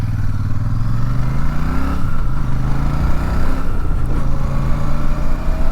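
A 2024 Royal Enfield Super Meteor 650 parallel-twin engine hums steadily while riding, a close, continuous low throb that rises slightly in pitch through gear changes, with wind noise over it.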